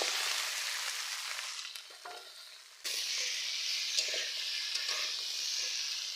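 Tomato, potato and pumpkin pieces hiss onto fried spices in a pan over a village clay stove, a bright sizzle that dips briefly and then surges back strongly with light stirring scrapes.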